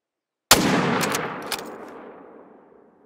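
A single rifle shot fired at a red deer in the hunting game The Hunter Call of the Wild: one loud, sharp crack that trails off in a long, fading outdoor echo, with nothing else heard.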